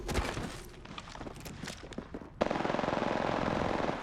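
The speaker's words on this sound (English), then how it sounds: "Shots fired and they're hitting me." Rapid video-game gunfire sounds as scattered, uneven shots that give way to a loud, steady automatic burst of rhythmic cracks lasting to the end.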